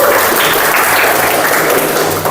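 Vocational high school students in a Garut classroom break into loud, steady applause, a continuous close wash of clapping that holds at full strength for a couple of seconds.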